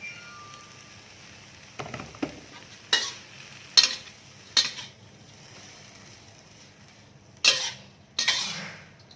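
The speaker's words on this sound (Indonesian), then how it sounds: "Dikeringkan menggunakan kompor ya, disangrai seperti ini." Chili flakes dry-roasting in a pan on a stove, a soft steady sizzle broken by several sharp stirring scrapes and clinks of a utensil against the pan at irregular intervals, close by.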